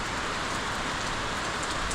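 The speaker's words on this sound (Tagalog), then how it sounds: "Maulan dito sa amin mga katangay." Steady, heavy monsoon rain pours down continuously with strong wind over an island coast. It is a dense, even hiss with no pauses and no voices.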